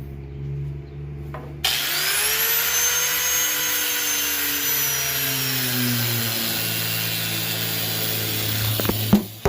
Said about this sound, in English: I'll probably just grab the grinder and cut this hose real quick